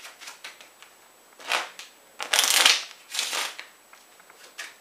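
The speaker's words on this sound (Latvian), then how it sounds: "Samaisīšu kārtis." Playing cards being shuffled by hand during a card trick, a few quick riffling bursts with short pauses between them, close and crisp with no talking.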